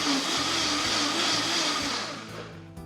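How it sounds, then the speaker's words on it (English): A blender whirs steadily as it purees mango flesh with milk into a smooth mixture, a loud continuous motor drone that holds even before tapering off near the end. "We're going to blend it for about a minute or 2 into a smooth puree."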